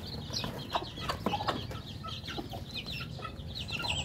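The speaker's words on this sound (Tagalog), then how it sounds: "mayroon itong 10 pirasong sisiw" Backyard chickens, including a hen with ten chicks, cluck steadily at close range while high, thin chick peeps chirp over the top, with no talking.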